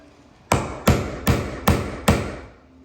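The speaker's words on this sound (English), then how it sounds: "When you get close, just stop like that. Your nail set." A hammer drives a nail set to sink nails into a wooden stair tread pressed against its riser: five sharp, close, evenly spaced strikes, each with a brief ringing decay, and no talking.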